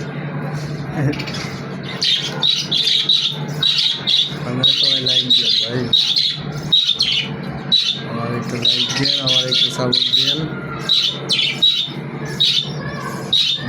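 A caged bird squawks loudly and repeatedly in rapid bursts throughout, while someone talks over it.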